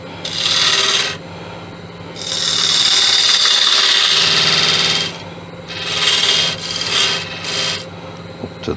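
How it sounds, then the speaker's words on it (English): Lathe turning of a monkey puzzle wood vase as a detail gouge cuts a bead: loud, close rasping bursts of tool on spinning wood, about a second on, a sustained cut in the middle, then several shorter passes, with no talk. "I'll grab the detail gouge so I can get in there"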